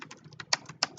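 Keys tapped on a computer keyboard while typing text, a quick irregular run of light clicks with two sharper, louder strikes, close and alone without talk.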